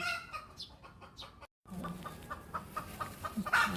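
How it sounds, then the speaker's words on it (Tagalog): Chickens cluck repeatedly in a short, irregular series, with other birds chirping nearby and a brief gap of silence midway. "Ayan ang mga ibon."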